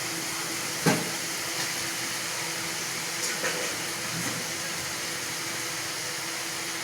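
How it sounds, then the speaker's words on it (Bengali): Chow mein noodles for chicken chow mein go into a hot frying pan, setting off a steady hissing sizzle, with a sharp clatter near the start and a few softer knocks afterward. "আমি এখন চাউমিনটা অ্যাড করে দিচ্ছি।"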